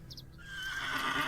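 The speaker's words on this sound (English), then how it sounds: "There's a horse." A horse whinnies in the point-and-click video game The Excavation of Hob's Barrow, a short, loud, rising neigh lasting about a second, heard alone.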